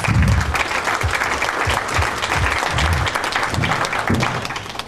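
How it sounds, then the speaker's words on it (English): An audience applauds loudly and steadily, dense clapping filling the space for several seconds before tapering slightly at the end. "Let's give them another warm round of applause."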